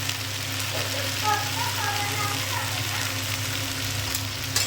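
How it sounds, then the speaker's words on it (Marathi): Homemade turmeric frying in oil in a pan on medium flame, a steady close sizzle with faint stirring scrapes running throughout, and a voice talking softly over it. "हळद टाकल्यावर परत हळद थोडीशी फ्राय करून घ्यायची"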